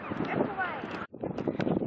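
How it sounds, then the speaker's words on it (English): Wind buffets the microphone at a sunny beach in a broad, rumbling rush, briefly cutting out before gusting again, with faint voices mixed underneath. "really windy, even though it's sunny"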